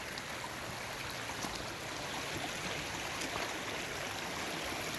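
Lime Creek flows steadily in the morning, a constant broadband rush of water over rocks heard close up with no breaks, no voices and only faint shifts in texture.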